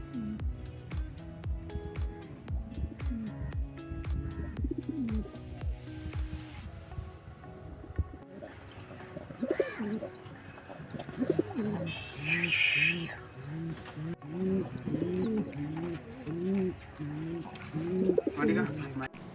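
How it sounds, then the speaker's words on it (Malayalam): Pigeons offered for sale at a pet farm in Malappuram, Kerala coo repeatedly in low rhythmic phrases, with bird chirps mixed in, heard close and continuous over about twenty seconds with a voice talking partway through. "പറവ പ്രാവുകളാണ് വന്നിട്ടുള്ളത്."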